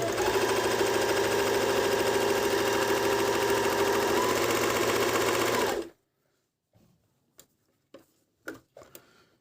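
A Medion MD10685 sewing machine stitches a rolled hem at a fast, steady, close whirring run for about six seconds, then stops abruptly, leaving a few faint clicks and handling taps.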